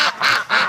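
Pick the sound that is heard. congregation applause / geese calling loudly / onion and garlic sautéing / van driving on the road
geese calling loudly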